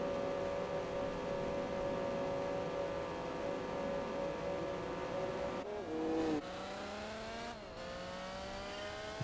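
Dodge Viper race car engine in the Gran Turismo 4 video game, a loud steady engine drone holding pitch, then two sharp gear-change dips with rising revs after each, continuous and close with no talking.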